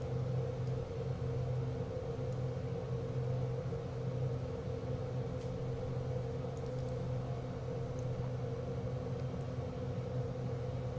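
Aircraft engine drone in Microsoft Flight Simulator 2024 during a landing approach in New Zealand, a steady tonal hum and rumble that holds almost level throughout with no voices.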